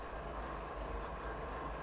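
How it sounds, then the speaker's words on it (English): A freight train climbs through the Canadian Rockies in a railway simulator. It gives a steady, low rumbling drone with faint wheel rattle, even and continuous, and no talking. "This is our train."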